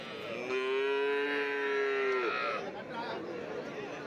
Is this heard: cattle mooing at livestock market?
yes